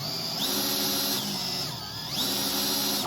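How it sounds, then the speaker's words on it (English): Festool T-18 E cordless drill motor running steadily and smoothly at close range, a continuous high whine that dips in pitch briefly as the speed eases, then climbs back up, with no talking. "I like the drill because it just has a very nice, smooth motor and a very finesse feel to it."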